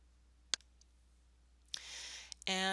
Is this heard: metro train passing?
no